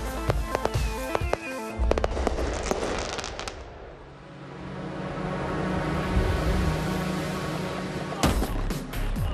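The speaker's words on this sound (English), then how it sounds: "A noonday cannon blast signals the first of 3 starts for the offshore race" A deep, loud boom from a noonday cannon starting the Giraglia Rolex Cup offshore sailing race, with sharp crackling bursts at the start and again near the end, over a steady rumbling background.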